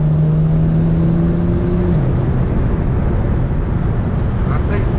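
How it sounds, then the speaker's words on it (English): Wind roaring through an open window of a moving Infiniti G37, a loud dense steady rush with a droning engine tone under it during the first seconds. "I think this might be too much wind noise"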